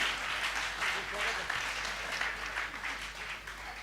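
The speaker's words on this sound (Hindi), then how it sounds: "एक बार मिलके ताली बजाओ तो मैं कविता सुनाता हूं साहब" Audience applause at a Hindi poetry event, a dense continuous clapping wash lasting the whole stretch at steady, moderately loud level.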